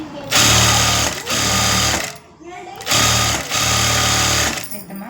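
A sewing machine stitches a border onto the lining side of a blouse piece in two long, loud, steady whirring runs, with a short pause and soft handling noise between them.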